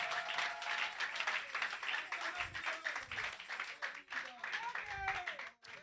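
A church congregation claps and cheers for Jesus at a French-language evening service, sustained applause with a speaking voice running over it throughout.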